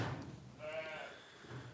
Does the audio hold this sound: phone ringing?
no